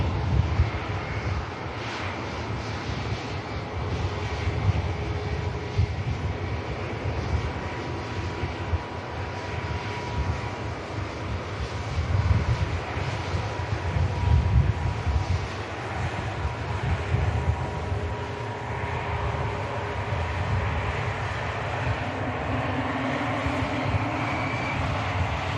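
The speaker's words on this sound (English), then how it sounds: "Air France coming around the corner." An Air France airliner taxis at Manchester Airport, its jet engines giving a steady, broad low rumble and whine that holds for the whole stretch without speech.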